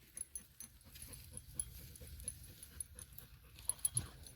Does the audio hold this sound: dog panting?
yes